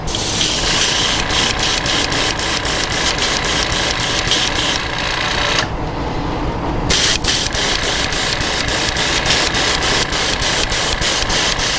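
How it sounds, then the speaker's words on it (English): Paint sprays from an aerosol can over a fabric stencil in steady, even bursts. The close, loud hiss holds nearly continuously with quick rhythmic pulses and one brief pause near the middle, and no one speaks. "Just even sprays, folks. Let's get those even sprays in."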